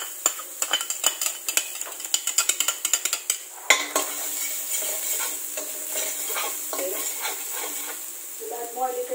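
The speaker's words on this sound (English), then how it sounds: "We're going to saute the garlic." Garlic sautéing in olive oil for spaghetti, first with a run of quick utensil clicks and scrapes against the pan, then a steady close sizzle with occasional stirring taps and a brief voice near the end.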